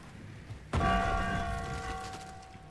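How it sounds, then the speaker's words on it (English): Bells ring out in a video game, one bright strike landing suddenly and then a long, shimmering resonant tone that slowly fades while other soft sounds sit underneath. "Or they're just bells."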